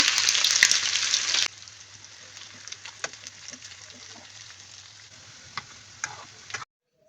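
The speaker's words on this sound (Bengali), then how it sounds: "তেল গরম হয়ে গেছে তিনটা দিয়ে দিচ্ছি শুকনা মরিচ হাফ চা চামচ দিয়ে দিচ্ছি গোটা জিরে" Dried chilies, whole cumin and chopped onion hit hot oil with a loud hiss that drops to a quieter, steady sizzle, dotted with faint stirring ticks and clicks, up close with no talk.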